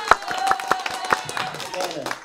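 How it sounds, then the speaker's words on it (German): A few people in a Schlager music show give sparse applause after a song. The handclaps are sharp and uneven, with soft voices faintly underneath. "Applaus noch dazu, genau."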